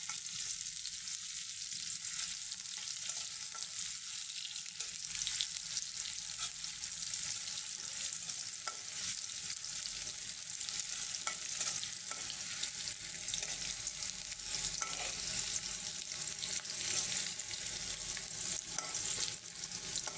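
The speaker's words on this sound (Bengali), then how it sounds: "এখন দেখেন পেঁয়াজটা বেরেস্তা করে নেবো" Onions frying in a pan until golden for a beef curry, a soft continuous sizzle with faint stirring scrapes throughout, no talking.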